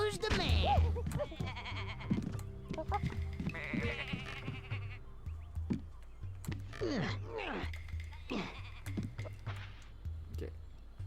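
Sheep bleat repeatedly in the Tak and the Power of Juju video game, a series of wavering cries over a low droning game soundtrack, with a player talking over them.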